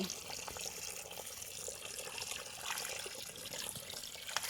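Village tap water runs into a land-based fish tank holding tilapia, making a steady, close splashing gush that holds evenly throughout with no talking over it.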